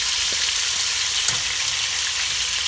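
Goat meat sizzles steadily as it browns in a hot pan, a constant close crackle with the occasional soft scrape, and no one speaking.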